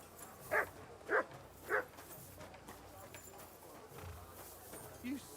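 Three sharp dog barks ring out at an even pace in Kingdom Come: Deliverance 2, moderately loud over a dull ambient bed, followed by a fainter low yelp near the end.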